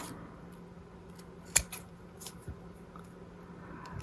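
Scissors trim excess chipboard in a papercraft project, a few quiet snips with one sharper cut standing out in a calm room.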